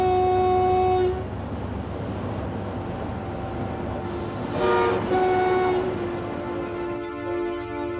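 A British Rail Class 91 electric train rumbles along steadily, accelerating with sustained tonal whines from its motors, then a brief horn-like blare sounds mid-way over the continuous rail noise.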